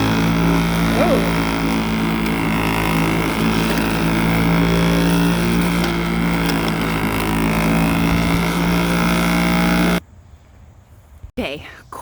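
A lawn mower engine runs loud and steady close by after a blade change, a constant droning hum with strong harmonics for about ten seconds, then cuts off abruptly, leaving quiet handling noises.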